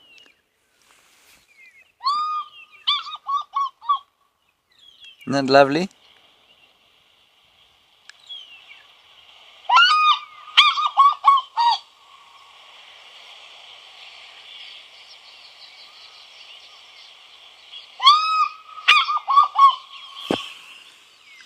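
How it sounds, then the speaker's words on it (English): A recording of an African fish eagle plays on a safari drive, repeated loud ringing yelping calls in bursts separated by pauses, with a voice speaking briefly and a faint engine-like hum between calls. "For many, many people, the sound of the fish eagle is the best possible call."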